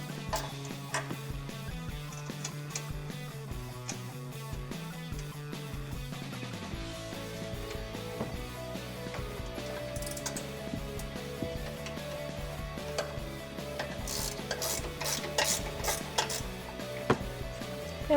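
A ratcheting wrench loosens 15mm strut bolts on a 2009-2020 Ford F150 during a leveling lift kit install, giving steady runs of small metallic clicks that sit fairly quiet over a constant background hum.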